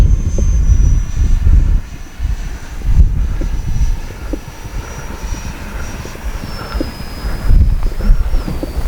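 Freewing L-15 64mm electric ducted-fan RC jet flying a landing approach with flaps down, a steady high whine over fluctuating wind buffeting and rumble, no talk.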